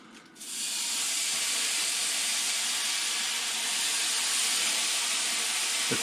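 Turkey cold cuts sizzle steadily in a hot pan over medium heat, a loud, dense hiss that starts abruptly and holds on alone with no talk.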